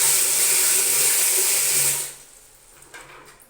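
Hot water pours in a steady, close stream into a basin for a salt foot soak, then stops abruptly, leaving faint clinks and quiet room sound.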